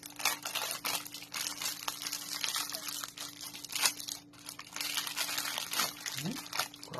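Crinkly plastic bread packaging rustles and crackles while being pulled open, in uneven close bursts with short pauses, with a person talking at the same time.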